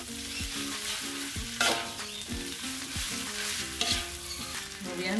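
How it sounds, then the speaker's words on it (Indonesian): Boiled, drained noodles stir-fried in a pan for mie goreng kangkung, with steady loud sizzling and repeated scraping strokes of a spatula against the pan throughout, no talking. "Kemudian masukkan mie yang sudah direbus dan ditiriskan."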